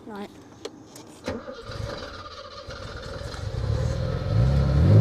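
An old BMW barn-find engine cranks, catches and settles into a running rumble that grows louder and rougher, close by, with people talking over it.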